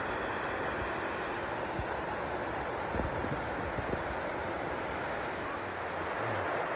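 Laurel Fork Falls, a waterfall along the Appalachian Trail, gives off a steady broad roar heard from a short distance, with a few soft knocks and faint wind buffeting the microphone.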